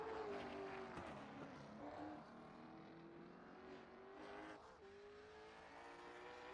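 Race cars in the Elite Seniors Racing Championship on an asphalt track at Myrtle Beach leave the pit lane for qualifying, their engines droning and shifting pitch at a moderate distance, steady and fairly quiet with no voices.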